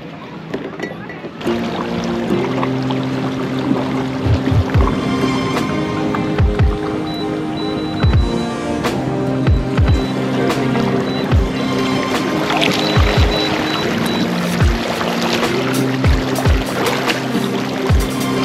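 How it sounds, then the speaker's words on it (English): An Old Town kayak paddled on open water: rhythmic close paddle strokes dipping and splashing at a steady pace over a constant hiss of wind and water. "I'm on a paddle Old Town Kayak"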